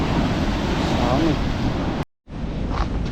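Sea waves wash onto the coast of Karnataka during heavy monsoon weather. The surf makes a continuous loud roar mixed with wind buffeting the microphone, broken by one short moment of silence before it resumes.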